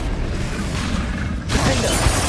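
Confringo spell blast in Hogwarts Legacy: a rushing burst of noise that swells sharply midway into a louder crackling impact.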